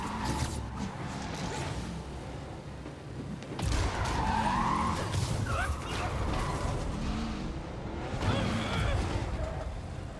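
Tires squeal and skid as cars race through a chase in the Marvel's Spider-Man Remastered video game, the screeching rising and falling over a continuous engine roar, with game voices briefly heard under the action.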